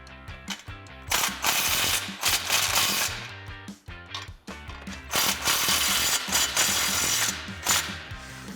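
Rapid, close ratchet clicks tighten an exhaust flange on a 2015-2020 Ford F150 5.0L, coming in quick bursts of cranking separated by brief pauses as the wrench is reset, with no speech.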